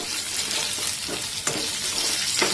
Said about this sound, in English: stir fry it for 2-3 minutes